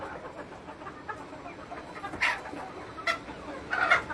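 Native desi chickens and roosters on a small farm flock of about ninety birds cluck in a few sharp bursts, close by, over a low steady background hum.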